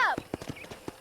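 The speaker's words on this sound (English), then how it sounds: "I picked out a fine horse for you." Horse hooves clip-clop in a quick, uneven rhythm as a rider sets off across a ranch in the video game Red Dead Redemption, close and fairly clear with a brief call at the start.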